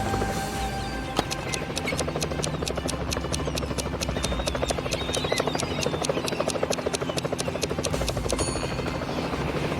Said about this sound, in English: flying in a helicopter over the pool to check the situation